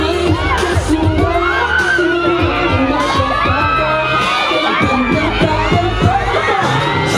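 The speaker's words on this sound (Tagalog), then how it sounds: "di na rin halos magkarinigan ang lahat sa lakas ng hiyawan" A mall-show crowd of fans screams and cheers nonstop, dense high-pitched shrieks and whoops layered over a loud, packed indoor roar.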